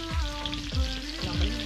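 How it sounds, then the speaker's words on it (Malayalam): Fish frying in a pan at a campsite in the Marlborough Sounds, New Zealand, sizzles and crackles continuously, close and fairly quiet, with a few soft repeated thumps underneath. "മീൻ വറുത്തടിച്ചുകൊണ്ടിരിക്കുകയാണ്."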